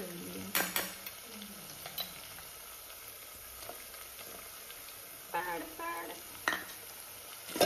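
Onion and garlic sizzling in hot oil as a tempering for a Konkani fish curry, with steady frying crackle and a few sharper stirring scrapes and clinks of a spoon against the pan, no talking.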